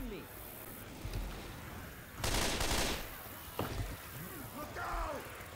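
Gunfire in a video game fires at the player in short bursts, one long rattling volley in the middle and several sharper shots around it, while voices talk over the action throughout.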